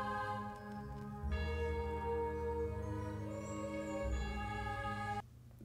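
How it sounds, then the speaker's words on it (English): Resonant church bell tones ring out over a dense, sustained musical backdrop, the ringing swelling and holding steadily before cutting off near the end. "The church bells,"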